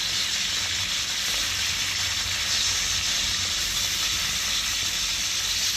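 Salted chicken pieces sizzle in hot oil with bay leaf, cumin and spices, giving a steady, loud, broadband frying hiss that carries on without a break.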